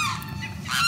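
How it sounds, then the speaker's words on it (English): A large bird with a long, skinny beak honks loudly from a tree in Tampa, Florida, a few harsh goose-like calls, the final one louder and nearer. "There is a huge bird in that tree."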